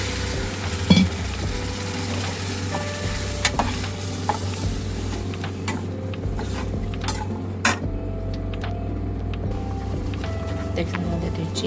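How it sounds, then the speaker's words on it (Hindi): Halwa frying and sizzling in a pan on a stove while being stirred, with a steady hiss and occasional clinks of a spoon against the pan, close and continuous, with a voice heard at times. "हलवा भून गया है।"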